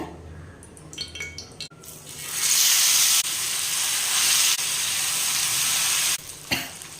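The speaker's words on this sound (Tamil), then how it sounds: "இதில் வந்து எண்ணெய் ஊற்றிக்கிறாங்க" Oil poured into a hot pot of vavval (pomfret) fish curry sets off a loud, hissing sizzle that swells up after a few light clinks and holds for several seconds before dying down.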